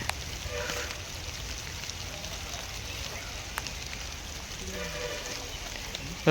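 Steady rain falls throughout, a continuous hiss of drops with a soft rumble underneath and no voices.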